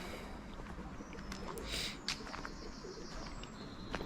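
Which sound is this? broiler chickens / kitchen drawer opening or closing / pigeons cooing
pigeons cooing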